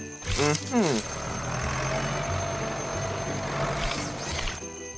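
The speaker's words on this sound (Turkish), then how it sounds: "Bu sadece dinlenmeni söyleyen alarm. Sen kestirene kadar çalmayı bırakmayacak biliyorsun." An alarm bell rings nonstop at a steady, insistent level, with a short voice-like sound near the start.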